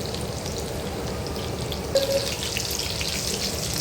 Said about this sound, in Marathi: आलटी पलटी करून दोन्ही साईडने व्यवस्थित आपल्याला भाजून घ्यायचे तळून घ्यायचे